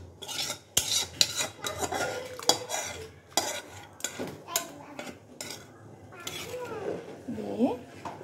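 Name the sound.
stirring chicken khichuri in a pot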